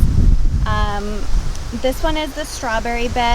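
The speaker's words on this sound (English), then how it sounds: "As you can tell, it's a super windy day today." Strong wind blows in a garden beside raised strawberry beds, a loud, steady roar with gusty microphone buffeting, while a person speaks over it.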